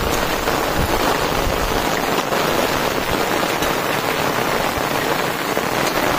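Heavy monsoon rain pours down in a Konkan village, a dense, loud, unbroken hiss of drops striking surfaces with no voices.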